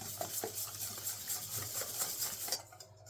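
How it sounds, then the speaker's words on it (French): Diced apple being stirred into cake batter in a bowl, soft wet scraping and clicking strokes repeating in a quick, irregular rhythm, close and quiet. "Donc, on mélange."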